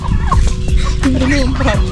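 Turkeys gobble loudly up close amid clucking chickens, geese and ducks, a busy overlapping barnyard chorus with a faint voice in the background.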